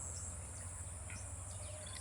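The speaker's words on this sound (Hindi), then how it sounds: "तो चिड़ियाँ जो है चहचहा रही हैं।" Faint morning birdsong on a farm beside guava trees and a ripening sorghum fodder field, thin high chirps scattered over a steady low rural hum, with no one talking.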